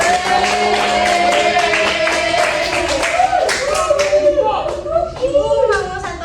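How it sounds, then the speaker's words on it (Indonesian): Students in a high school classroom clap for a classmate, a close, uneven patter of hands that thins into scattered claps, with some talking mixed in. "tepuk tangan dulu yuk buat temennya yuk"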